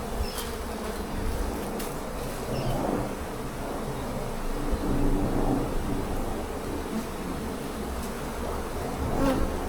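Honeybees buzz around a backyard Flow Hive in a dense, continuous hum that swells and fades softly as individual bees pass close, with no talk during the stretch.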